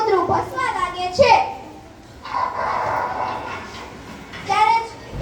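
In a school Guru Purnima stage play, a voice imitates a dog barking in bursts of yelps and bow-wows, separated by a short pause and some other voices.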